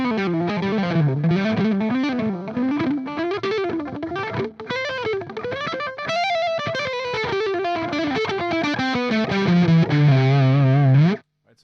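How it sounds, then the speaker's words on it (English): An electric guitar with a medium-gain distorted tone plays continuous fast, shred-style melodic runs, loud and upfront throughout, then stops abruptly at the end. "So this is a very good sound to practice technical stuff. Medium gain sound"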